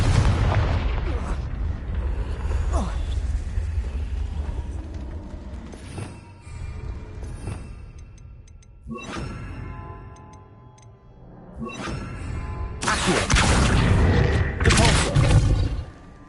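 A Confringo blasting spell in the Hogwarts Legacy video game, heard as several deep booming explosions with crackling, rumbling tails, loud and close over dense game sound.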